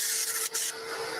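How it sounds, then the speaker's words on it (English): A workshop dust extractor runs with a steady broad hiss and a brief dip midway, close and fairly loud, with no talk. "I did turn my dust extraction on."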